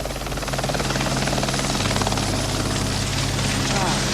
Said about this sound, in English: flying his own jet helicopter